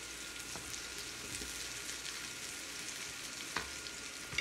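Green onion sizzling in a hot pan for veg chow mein, a steady close frying hiss with a faint stir and a small clatter near the end.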